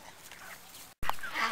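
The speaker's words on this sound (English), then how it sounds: "It's a Chris Rock chicken" Farm chickens give one short honking cluck-like call, loud and close, after a brief gap, with no talk over it.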